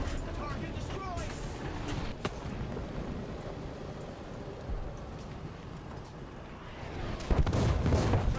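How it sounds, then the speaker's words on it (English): Explosions and gunfire from War Thunder rumble and crack through a dense, noisy battle din around an AH-56 helicopter, with a heavy burst near the end; no clear talk. "I can't hear you over the explosions."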